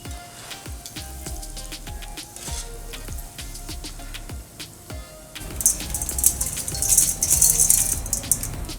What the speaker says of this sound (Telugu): ఈ విధంగా అటుకుల్ని వేసుకొని జస్ట్ కాసేపు ఫ్రై చేసి వెంటనే తీసేసుకుందాం